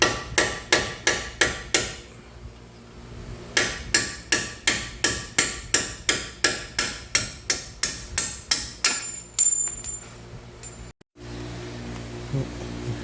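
A hammer strikes a drift punch to drive out a rusty lower control arm bolt on a 2015 Jeep Patriot 2.4, sharp metallic blows in quick even runs, loud and close, with a short pause mid-way.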